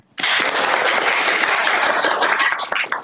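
A class of grade 12 students breaks into applause, a dense burst of clapping that starts abruptly and holds steady and close for about three seconds.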